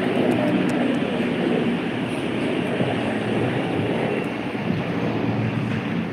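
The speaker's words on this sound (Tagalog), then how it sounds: "Helicopter sa Hong Kong." A helicopter flies over Hong Kong, a steady, rumbling engine and rotor roar mixed with wind buffeting on the microphone, loud and unbroken throughout with no talking.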